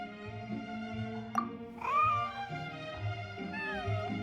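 A white fluffy cat in the Genshin Impact video game gives a couple of rising meows over a soft game music background.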